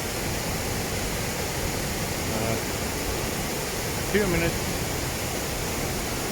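A waterfall in a forest rushes as a steady, broadband roar that fills the whole clip, with a brief voice speaking over it near the end.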